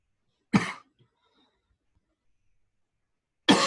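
Two short, sharp coughs sound close by, about three seconds apart, with quiet between them.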